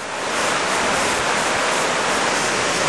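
Lepreau Falls waterfall in New Brunswick roars in a steady, broad wash of rushing water, loud and continuous throughout with no voices.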